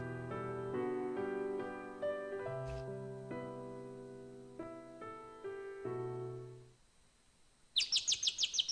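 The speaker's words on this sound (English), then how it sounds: "the sound of birdsong can be heard" Birds chirp in a sunlit forest scene from the video game Code: Realize. A short burst of bright, rapid chirps comes in only at the end, after a stretch of sustained melodic music fades out.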